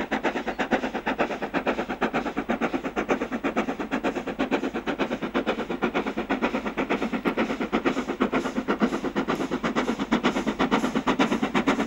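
The preserved LMS Stanier 8F steam locomotive 48151 passes on its way to Carlisle, with rapid rhythmic exhaust beats and clattering wheels, loud and continuous throughout.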